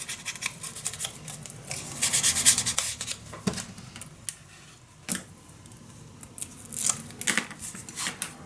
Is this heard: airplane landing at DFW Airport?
no